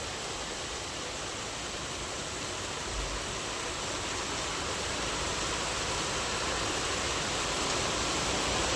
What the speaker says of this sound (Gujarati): ચાલુ થઈ ગયો છે વરસાદ.